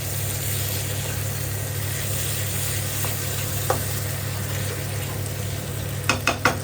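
Mutton liver sizzles in oil in a wok with tomatoes and spices, a steady moderate frying hiss with a low hum beneath, and a few sharp utensil clinks near the end.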